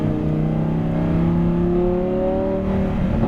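A supercar engine revs hard while accelerating on a race track, a continuous rising, high-pitched scream that climbs steadily in pitch, loud and close throughout with no voices.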